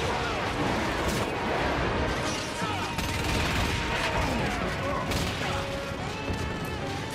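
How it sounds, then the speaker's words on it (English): Heavy gunfire and explosions in the video game Starhawk, a dense, continuous barrage of shots and crashing blasts with mechanical clatter, loud and close throughout. "Who's shooting at me?"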